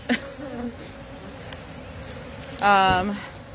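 Honey bees buzz at close range as they enter their hive, a soft background drone broken by a brief nearby voice early on and a louder, tonal burst of buzzing toward the end.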